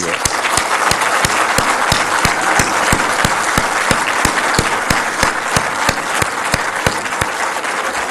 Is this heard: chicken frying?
no